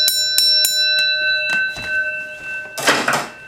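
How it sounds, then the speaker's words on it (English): A very old electric school bell, wired to plug into a wall socket, rings in several sharp, loud metallic bursts that leave a ringing tail before a final noisy clatter. "Today I'm going to be testing my school bell"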